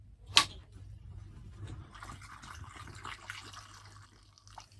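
Homemade mango wine mixture poured from a lifted bucket into a bottle, a soft continuous trickle with a sharp knock or splash near the start.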